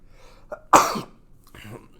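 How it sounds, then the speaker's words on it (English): A single sharp, explosive sneeze bursts out, preceded by a short intake of breath and followed by a softer trailing sound. "Sneezing all over the place."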